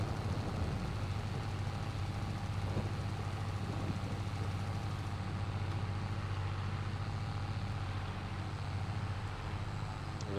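Two tractors run in a farming video game, producing a continuous low engine drone with a steady hum, constant and unbroken throughout, with no talking.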